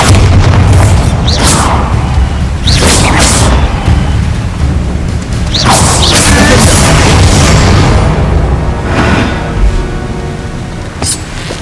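Bombarda blasting-spell explosions in Hogwarts Legacy, a run of loud booming bursts every second or two over a dense roaring battle din.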